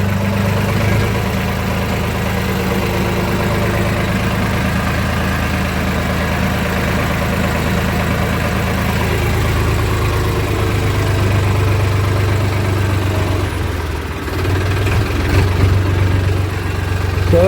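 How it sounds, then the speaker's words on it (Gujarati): A tractor engine runs continuously on a farm before onion sowing, a loud steady diesel rumble close by with constant vibration and a slight change in tone near the end. "આપણે હવે 3:38 મિનિટે ટ્રેક્ટર શરૂ કર્યું"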